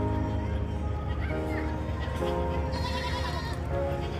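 Goats bleat repeatedly on Toronto Centre Island, their wavering calls close and clear over steady outdoor background noise, with a voice joining in briefly.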